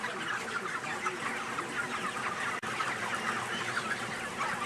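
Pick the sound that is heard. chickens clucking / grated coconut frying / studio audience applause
chickens clucking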